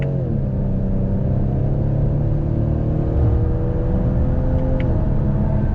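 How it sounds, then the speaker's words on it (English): A 2021 Ford Edge ST pulls hard in second gear after a downshift, its engine droning and rising steadily in pitch under load, heard from inside the cabin with no talking. "I'm gonna downshift to 2nd. On throttle, here we go."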